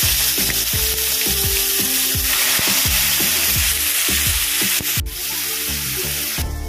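Chopped onion fries in hot oil with whole cumin seeds in a pan, a loud continuous sizzle broken by regular scraping stirs of a spatula, with no talking.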